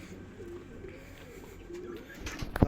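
Pigeons at a pigeon farm coo softly and low over a murky background hum, ending in a louder, sharper rustle.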